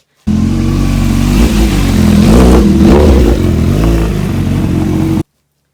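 A Honda CB1000R motorcycle with an aftermarket exhaust revs loud and close, its deep engine note rising and falling through about five seconds of steady throttle blips, with no voices.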